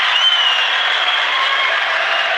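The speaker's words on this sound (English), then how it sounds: "the crowd erupted here on that opening" A judo arena crowd roars and applauds at a world championship, a dense, loud, sustained wash of cheering and clapping with no break.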